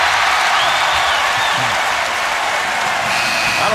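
A basketball crowd at a college game, VCU at Davidson, bursts into loud, sustained applause and cheering that fills the arena for several seconds.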